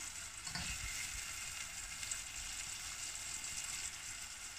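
Curry base for a vegetarian Durban curry frying in a pan, a steady close sizzle with a brief stir near the start and no talk.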